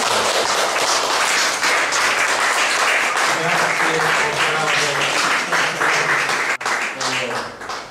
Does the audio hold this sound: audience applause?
yes